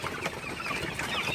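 Hybrid chickens cluck busily at night while pecking at broken maize, a short burst of close, overlapping clucks and fowl calls.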